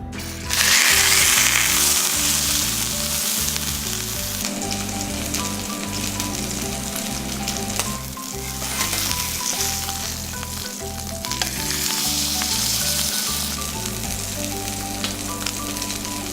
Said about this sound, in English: And now we're going to sear it off